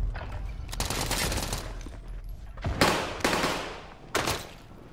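Bursts of automatic gunfire in Call of Duty: Modern Warfare, a sustained volley followed by several sharp, separate shots, moderately loud with no talking.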